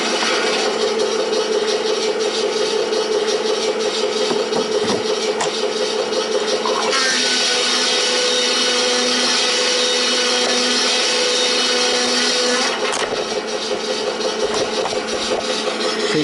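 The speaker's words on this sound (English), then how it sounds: "you get that sawing sound as the boards come out on this end" A Lionel toy sawmill accessory runs with a continuous buzzing, whirring drone that suggests a saw working. The tone shifts partway through, then changes again near the end, loud and close with no talk.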